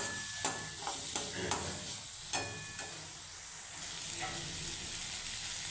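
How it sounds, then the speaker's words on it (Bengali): Green peas sautéed in a spice masala, a soft low sizzle under repeated spatula scrapes and stirring knocks, fairly quiet and close, no voices. "মশলাটার মধ্যে এখন আমি মটরগুলো দিয়ে নিই মশলাটা কষানো হতে হচ্ছে"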